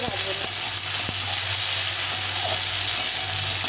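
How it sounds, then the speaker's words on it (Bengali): Large diced onion fries in a pan along with potato and other vegetables, giving a steady close sizzle with a few utensil knocks and no talking. "পেঁয়াজটা খুব একটা ভাজবো না, অনেক সবজির সঙ্গে ভেজে নেবো"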